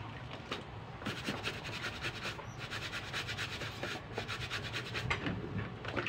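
A brush scrubs dirt from a leather bag in steady back-and-forth strokes, a close, continuous scratchy rubbing with brief pauses, with no voices.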